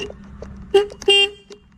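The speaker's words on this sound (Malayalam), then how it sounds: "ഇവിടെ ഒരു ഹോൺ സ്വിച്ച് ഉണ്ട്" A few short, bright horn beeps from a Romai Falcon electric scooter, the middle ones loudest, sounding close by with brief gaps between them.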